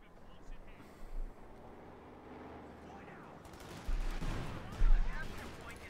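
Rifleman getting sniped in Company of Heroes 2, a World War II strategy game, with sharp rifle and gunfire bursts near the end over steady battle noise and commentary.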